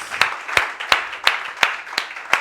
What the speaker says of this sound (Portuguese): Dá uma salva de palmas para Jesus aí, porque é só ele.